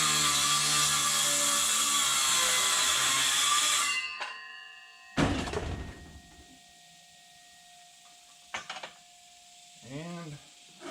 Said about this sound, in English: we just take our little cordless saw, do a little plunge cut right in the middle